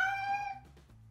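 A single cat meow, short and clear at close range, fading into quiet.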